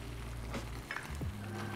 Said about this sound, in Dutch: Ik ga hem nu gewoon heel even laten bakken met alle ingrediënten, met alle kruiden.